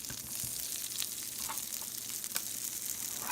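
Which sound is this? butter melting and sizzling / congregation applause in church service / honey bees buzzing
butter melting and sizzling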